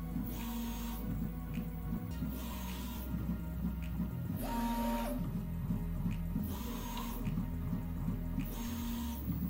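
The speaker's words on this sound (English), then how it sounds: "So now the heating is done, and it's going to start the calibration." A Prusa 3D printer runs its calibration, measuring spots on the heat plate with a steady pattern of whirring stepper-motor buzzes and periodic short moves, quiet and close, with no talking.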